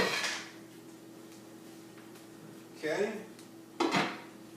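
A lid is set onto a slow cooker with a few close clattering knocks, separated by quiet gaps, and a voice speaks briefly.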